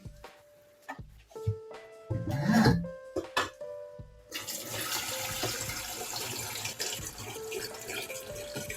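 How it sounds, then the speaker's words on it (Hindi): Water is poured into leftover chicken yakhni soup after a few clinks and clatters of kitchenware, then runs in a steady, fairly loud rushing stream for the rest of the clip. "इस बाकी बची हुई यखनी के अंदर मैं पानी डालूंगी और इसको पकने दूंगी"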